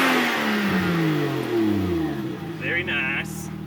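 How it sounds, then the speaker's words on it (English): A Mitsubishi Lancer Evo VI Tommi Makinen edition engine revs up close, rising and falling in pitch, with people talking over it toward the end. "we'll go ahead and give it a little rev"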